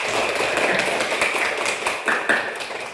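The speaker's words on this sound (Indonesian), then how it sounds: "Tepuk tangan yang meriah" A classroom erupts in lively applause, many hands clapping densely and continuously at close range for the whole stretch, with a few sharper individual claps standing out near the end.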